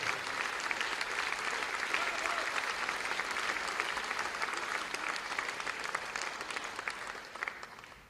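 Distant, even applause from a concert crowd at a Kazan jazz tribute rolls on for about eight seconds, quiet and dense, thinning slightly at the close.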